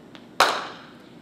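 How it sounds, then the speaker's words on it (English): One crisp hand clap rings out close and loud in a quiet lecture room, preceded by a faint tap and decaying quickly. "So now let's say I clap my hands again."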